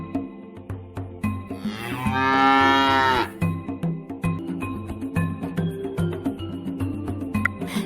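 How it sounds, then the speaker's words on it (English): A cartoon cow moos in a toddler animal-learning game, one long, loud, drawn-out low call standing alone over light, bouncy background music. "Do you know what a cow says?"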